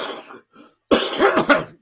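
Two soft, muffled coughs, then a louder harsh cough and throat clearing, very close and dry, from someone speaking on a sports talk broadcast.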